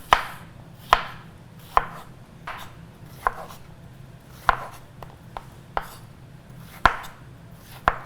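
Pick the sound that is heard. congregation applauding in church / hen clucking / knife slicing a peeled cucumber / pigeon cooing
knife slicing a peeled cucumber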